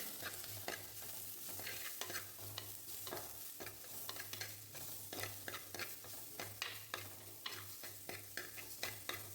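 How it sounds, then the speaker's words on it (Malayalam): Ground ginger, garlic, green chilli and shallots sauteing in coconut oil in a pan, a soft continuous sizzle broken by frequent sharp spoon-scraping stirs, close and fairly quiet. "ഇനി ഇതിലേക്ക് നേരത്തെ അരഞ്ഞു വെച്ച ഇഞ്ചി വെളുത്തുള്ളി പച്ചമുളക് ചെറിയ ഉള്ളി ഒക്കെ ചേർത്ത് കുറച്ച് സമയം ഒന്ന് വഴറ്റിയെടുക്കാം"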